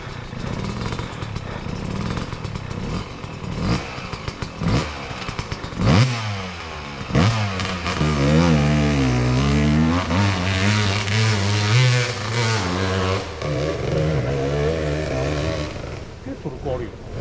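A Yamaha YZ enduro dirt bike revs on a trail ride. Its engine climbs and falls in loud, close, throttle blips and sustained rises, with voices talking over it at times.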